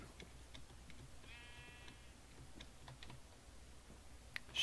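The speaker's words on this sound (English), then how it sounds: "Actually, you know what? Sheep. Come here, sheep." A single sheep bleats in the video game Minecraft, a faint short wavering bleat over quiet keyboard typing and mouse clicks.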